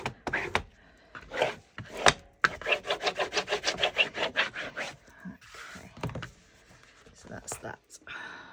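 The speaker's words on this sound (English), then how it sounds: "Let's give it a quick burnish." A burnisher rubs briskly back and forth during stitchery work, a quick rhythmic run of about a dozen close, scratchy strokes framed by a few scattered handling taps and scrapes.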